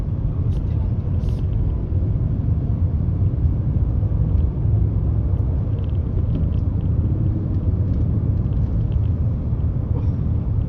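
Inside a Daihatsu Rocky 1200 cc car on the road, a steady low rumble of engine and tyre noise fills the cabin without a break, with faint clicks over it.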